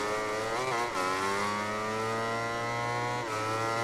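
Racing motorcycle engine from MotoGP 19 holding a high, steady rev during a wheelie at the Qatar GP, a loud continuous whine with a brief dip and recovery near the start and another small dip near the end.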